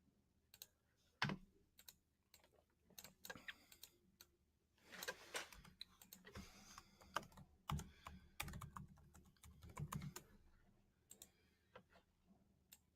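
A new file name is typed on a computer keyboard: quiet, close, irregular key clicks come in short bursts and pauses over about thirteen seconds, with no talking.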